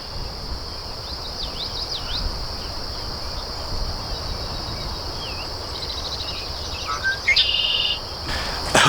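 Small bird with red on its wing calls in a wooded state park, its repeated chirps and trills cutting over a steady wash of insect and cricket buzz, growing closer and louder near the end.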